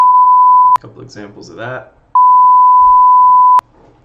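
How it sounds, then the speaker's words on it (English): A hand-detection program sounds an alert when its tracking boxes cross: a loud, steady electronic beep, then someone speaking briefly, then a second identical sustained beep that cuts off sharply. "If I go to cross the boxes together, get a beeping sound."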